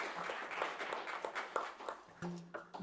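Live studio audience applauding at a bluegrass radio show, a dense patter of clapping that fades out, followed by a few clattering handling sounds and knocks near the end.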